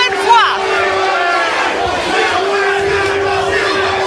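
A pro wrestling crowd at an FWE show chants loudly in unison for Ivelisse, a steady dense roar of many voices holding one repeated call throughout.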